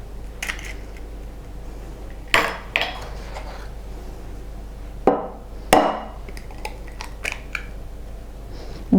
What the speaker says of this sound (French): vous allez casser les 2 œufs